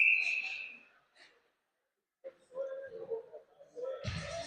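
A referee's whistle shrills briefly at the start of an ice hockey game, then fades; after a short pause, faint crowd noise and talk return.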